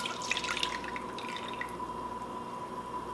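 Cherry wine liquid poured into a container, a steady close trickle with dripping splashes, loudest early and continuing evenly for a few seconds with no talk.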